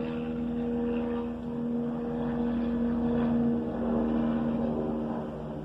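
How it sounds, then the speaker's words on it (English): An air ambulance helicopter passes over a building, heard as a steady, continuous engine drone with a sustained low hum, fairly even in loudness throughout with slight swells. "we have air care flying over the building"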